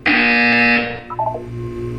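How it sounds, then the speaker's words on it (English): Harsh, loud electronic test chamber buzzer from the Portal 2 video game, a single sustained blast lasting under a second, then cutting off into quieter tonal game sounds. "When you hear the buzzer, look down at the floor."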